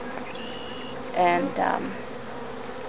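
Honeybees buzzing around small round hive entrances in a garden, a soft steady hum with a couple of louder close fly-by buzzes, a single spoken word briefly heard.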